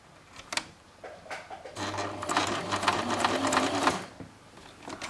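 A small sewing machine stitches through thick fabric around a corner, first with a few isolated clicks and then a close, steady mechanical whirr of running stitches for a couple of seconds before stopping.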